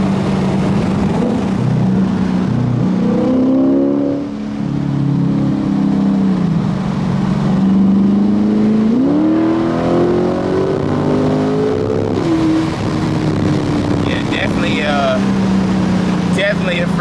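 An LS-swapped car engine revs loudly and continuously, its pitch climbing and dropping as gears shift, with someone talking over it throughout.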